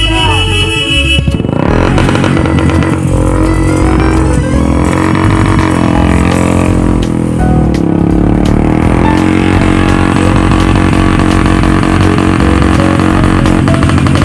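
A motorcycle engine runs loudly and steadily throughout on a ride toward Laban Dhara art village from Burdwan, with a horn-like blare early on and possible voices faintly underneath.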